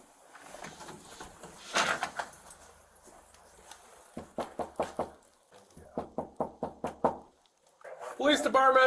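Police officers pound on an apartment door in repeated bursts of firm, hollow knocks, a cluster early on, then two rapid series of about six to seven blows, with someone shouting between them.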